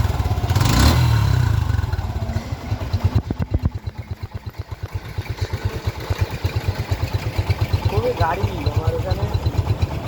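A Suzuki Gixxer 155 naked motorcycle idles close by beside a highway, a steady quick putter of even pulses following a brief louder burst at the start, with a voice talking over it at times.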